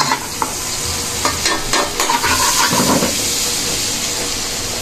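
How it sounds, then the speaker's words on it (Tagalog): Garlic sautéing in Star margarine in a pan, a steady close hissing sizzle with a few clinks and stirring scrapes, and no one talking. "Gigisa tayo ng bawang."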